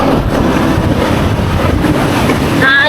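Loud, steady wind buffeting the microphone while riding outdoors, a continuous broadband rush with no speech over it.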